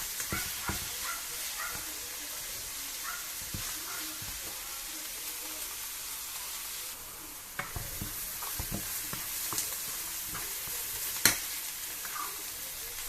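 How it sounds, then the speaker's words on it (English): Fish rolls frying in a pan hiss with a continuous sizzle, broken by occasional sharp pops and utensil knocks, heard close up with no speech over it. "You leave it to fry."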